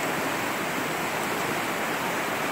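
River water rushes over rocks in a rainforest, a dense, steady hiss filling the whole span, loud and close, with no voices.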